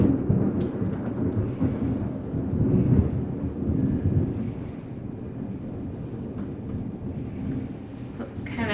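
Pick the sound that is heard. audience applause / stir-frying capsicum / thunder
thunder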